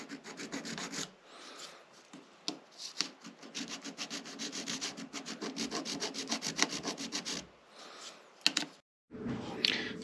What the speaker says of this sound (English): Remember, a file only cuts in one direction